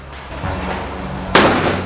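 A real firearm fires once at an outdoor shooting range, a single loud sharp crack with a short decaying tail, preceded by low ambient murmur and no speech.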